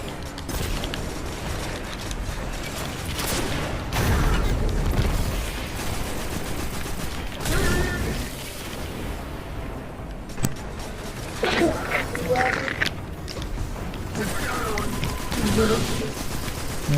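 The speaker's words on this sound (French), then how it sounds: "je vais devoir mettre 3 balles de roquette là" Rocket launcher fire in the Destiny 2 video game, a dense run of gunfire-like blasts and mechanical clatter over a steady game soundscape, with someone talking throughout.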